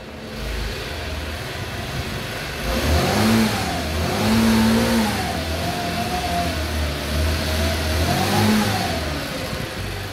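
A small petrol scooter engine fires up on a cold autumn day and settles into a steady running buzz, with a few rising and falling revs over a continuous loud motor drone.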